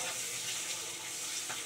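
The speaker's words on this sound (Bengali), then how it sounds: "এই দেখো লাল করে ডিমগুলো সুন্দর করে ভেজে নিচ্ছি একদম" Eggs seasoned with salt and turmeric frying in a pan, a steady hissing sizzle with no talk, constant and fairly close throughout.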